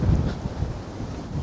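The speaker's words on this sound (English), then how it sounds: "I'm literally being carried by the wind" Strong wind gusts buffet the microphone at a Manhattan waterfront pier on a blustery day, a steady low roar and rumble that swells and eases throughout with no voices.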